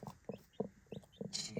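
Hens cluck softly in a regular rhythm, about six short low clucks close by, with faint high peeps from chicks between them.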